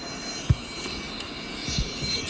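An airplane engine powering up for takeoff gives a steady, even drone with a couple of soft thumps, heard alone without voices.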